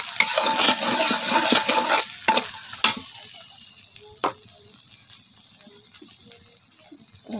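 Garlic paste hits hot oil in a pan and sizzles loudly for the first few seconds, stirred with a few sharp scrapes and clicks, then the frying settles into a quieter, steady hiss.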